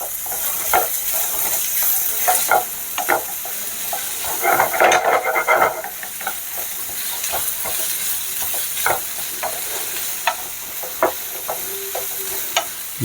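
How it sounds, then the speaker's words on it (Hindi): Onion, capsicum and carrot frying in a pan, a steady close sizzle with repeated sharp stirring scrapes and clinks throughout, no talking. "इसको हम अच्छे से पका लेंगे, लगभग 2 मिनट इसको पकाएंगे, प्याज, शिमला और गाजर को अच्छे तरह से।"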